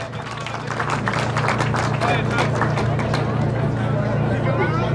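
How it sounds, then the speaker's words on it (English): An audience at a children's festival applauds MCs, a steady wash of clapping with crowd murmur that stays fairly loud and even throughout. "And finally, a round of applause to our MCs, please."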